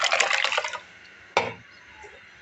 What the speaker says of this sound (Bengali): এখন আমি কচুর ডালটা এই যে ঢেলে দিলাম